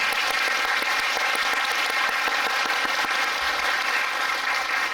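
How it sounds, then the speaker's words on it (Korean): A packed theatre audience claps through the curtain call at the closing performance of the musical King Arthur, a loud, unbroken wash of applause that holds steady from start to finish. "여러분들께 꼭 박수 드리고 싶습니다"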